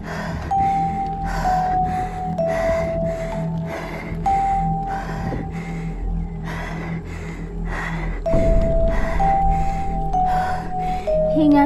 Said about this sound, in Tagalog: Hingal kung hingal.